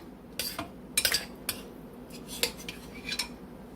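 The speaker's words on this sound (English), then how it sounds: "So I'm gonna put some of this gravy on the mashed potatoes." Gravy from a slow-cooker Salisbury steak is spooned onto mashed potatoes on a plate, with a few separate clinks and scrapes of a metal utensil against the dish over a quiet background.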